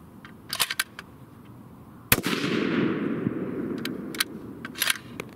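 Single loud rifle shot from a full custom 6.5 Creedmoor firing Hornady 140gr Aeromatch loads, a sharp close crack followed by a rolling outdoor echo and faint distant clicks.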